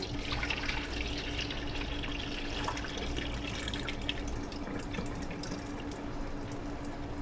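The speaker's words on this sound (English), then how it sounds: "I'll let all that water drain out of my strainer" Water runs and splashes steadily as boiled potatoes drain in a strainer, a continuous trickling pour with a faint low hum underneath.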